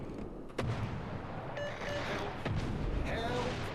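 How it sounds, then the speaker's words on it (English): Main guns on a World of Warships warship fire in a sudden loud boom, followed by rumbling follow-up blasts and scattered explosions, with someone talking over the action. "he just angles and just shoots his guns off"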